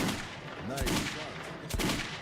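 Gunfire in Metro 2033 Redux on Ranger Mode, two sharp loud shots about a second apart cutting through a steady noisy background, with a voice murmuring faintly underneath.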